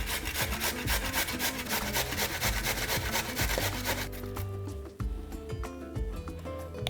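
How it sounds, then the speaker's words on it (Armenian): Potatoes rubbed against the large holes of a grater, a loud, steady rasping scrape in quick back-and-forth strokes, close up and continuous with no talking. "Դրանք հարկավոր է քերել մեծ անցքերով"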